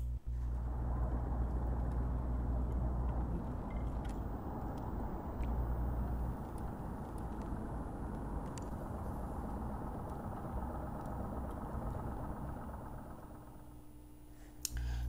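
A boat motor runs steadily on water near whooper swans in Busan, a continuous low engine drone that holds even and fairly strong before easing off near the end, with no talking.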